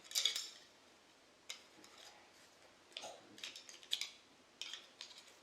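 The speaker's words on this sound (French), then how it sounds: "Voilà, les baguettes et la cuillère." Wrapped chopsticks and a spoon are handled close up, producing faint scattered clicks, taps and crinkly rustles in short separate bursts with quiet gaps between.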